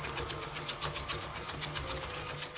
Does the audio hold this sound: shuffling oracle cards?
no